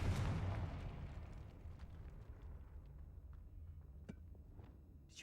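A Confringo blast spell in a Harry Potter video game erupts inside a tomb, one loud booming burst at the start that rolls off into a long, low rumbling decay, with a few faint clicks near the end.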